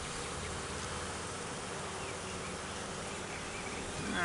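Honeybees in a busy five-frame nuc hive hum in a dense, continuous drone, close and steady throughout with no voices.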